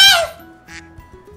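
A duck in the Minecraft video game gives a loud, nasal quack right at the start, followed by a softer, shorter call a moment later against a quiet backdrop.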